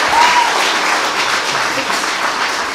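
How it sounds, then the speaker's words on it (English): A crowd at an event claps loudly and continuously, a close, dense wash of applause that holds steady throughout without speech. "Give a round of applause to sir."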